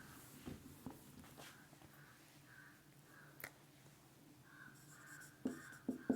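Marker or chalk scratching on a board during a physics lesson on internal resistance of a cell, soft intermittent strokes with a few sharper taps near the end, faint and close with no talking.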